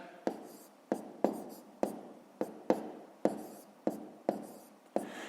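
A pen writes numbers on paper for a sixth-grade math exercise, with a close, quiet series of about a dozen sharp scratchy strokes at an irregular but steady pace, each fading quickly.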